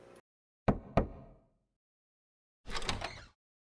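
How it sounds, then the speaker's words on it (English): Two sharp knocks on a door in the video game 428: Shibuya Scramble, a quick close pair, followed after a pause by a brief rustling burst; no voices. "He knocked on the door."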